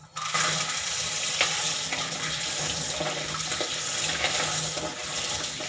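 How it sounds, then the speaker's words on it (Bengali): Spring onions are rinsed under a running kitchen tap, a steady rush and splash of water that continues unbroken and fairly loud. "পেঁয়াজ কলিগুলোকে ভালো করে ধুয়ে নেব।"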